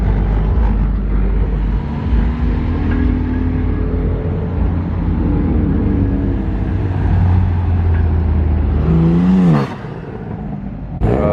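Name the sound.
cars pulling in and out at a car meet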